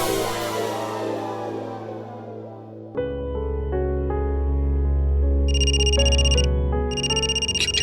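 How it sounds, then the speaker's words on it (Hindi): A mobile phone ringtone plays loudly and steadily, a synthetic melodic tune over a deep electronic bass, with a bright repeating high chime layered on near the end, after a brief stretch of background music. "क्यूटी पाई का फोन"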